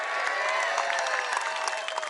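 A rural audience at an Urdu poetry recital claps steadily through a short burst of dense applause. Some crowd murmur sits in the background.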